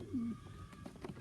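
A single low coo from a Pilot cross Sheffield cock pigeon among stock birds in a loft, soft and close in a quiet space.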